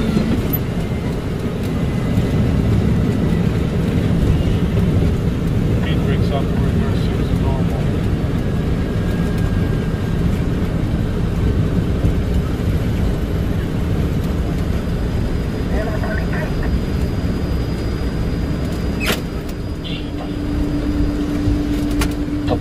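Boeing 747 landing at Barcelona El Prat airport, heard from inside the cabin as a steady, loud low engine and airframe rumble throughout, with a brief dip near the end.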